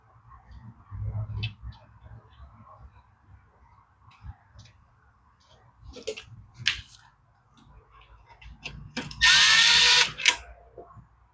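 A power drill drives screws while a Craftsman lawn mower is being reassembled: a brief loud whirring burst near the end, after scattered clicks, clatter and handling knocks.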